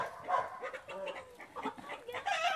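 A chicken clucks on a farm in a series of short, uneven calls, moderately close, with other animal noises mixed in and no clear talking.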